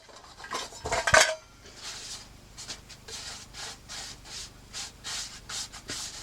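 Garlic pepper and cayenne stirred into corn flour in a bowl, with a sharp clink of a utensil against the dish, then a string of soft, rhythmic rubbing and scraping strokes.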